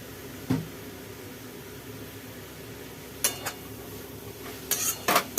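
Brahmi greens stir-fried in a pan give a soft low sizzle, broken by a few sharp scrapes and clinks of a spatula against the pan, close and unaccompanied by speech.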